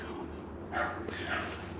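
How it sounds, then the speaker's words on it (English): Small dog yapping at a lakeside campsite on an autumn morning, two short bursts of barking heard at a distance, faint beneath steady outdoor background noise. "I hear a sassy Nick barking"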